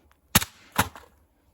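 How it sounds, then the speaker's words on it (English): A PSA AK rifle dropped from 9 feet lands on its butt, giving two sharp, hard impacts about half a second apart: the first strike and a bounce, each with a brief rattle, then quiet. "now to drop them on their butt. We'll do the AK first. AK, PSA AK from 9 feet onto its butt."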